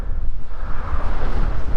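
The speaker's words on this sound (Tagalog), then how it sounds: "Lakas ng hangin." Strong wind buffets the microphone on an open hilltop at Takay hills, a loud, steady low roar with gusty swells filling the whole moment and no voices over it.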